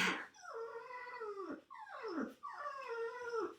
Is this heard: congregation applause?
no